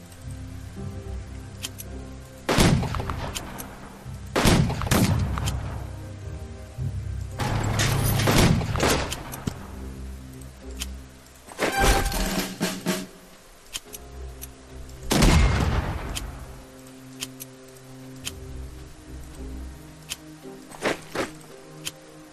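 Bombs exploding in the World War II strategy video game Unity of Command 2, Normandy beach map: a series of separate sharp blasts spaced a few seconds apart over about twenty seconds, each a sudden bang that fades, with quieter stretches between.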